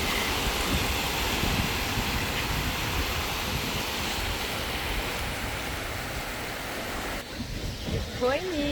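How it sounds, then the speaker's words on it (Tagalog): Strong ocean waves break on the shore at Ras Al Khaimah in the UAE on a sunny morning, a dense, continuous wash of surf that rushes close and loud before easing off at the end. "Ang lakas kasi ng alon."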